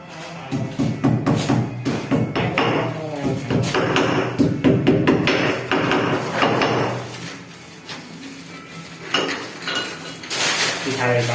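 Sharp metallic taps and knocks repeat irregularly as a size 7 plastic wall plug is hammered into a wall while mounting a water heater, with clinking and a person talking over parts of it.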